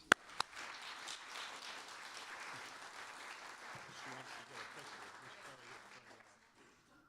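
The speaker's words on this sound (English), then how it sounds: "take a round of applause for Tammy for doing that." Luncheon audience breaks into a round of applause after the passing of the gavel, a few sharp claps up front, then a steady moderate wash of many hands that tapers off toward the end.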